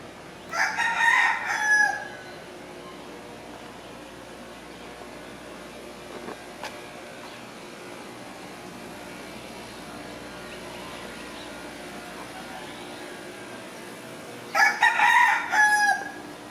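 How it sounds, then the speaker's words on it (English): A big rooster crows loudly twice, once at the start and again near the end, with quiet outdoor ambience in between, in Mazatlan. "Oh, there's the big rooster there."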